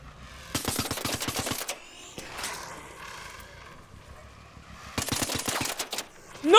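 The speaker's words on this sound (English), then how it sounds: "Is someone shooting at me?" Gunfire in the video game Arc Raiders: two bursts of rapid automatic shots at moderate distance, separated by a few seconds of rumbling game ambience and a single sharp crack.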